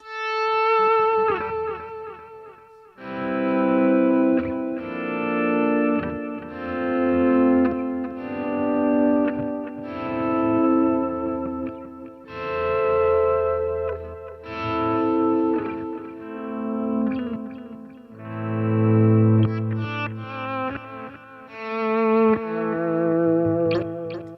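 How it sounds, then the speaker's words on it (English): An electric guitar plays notes that swell in gradually without a plucked attack, each fading up in smooth waves, drenched in echo and reverb. "It's going to be different than any other kind of guitar part when you have that swell."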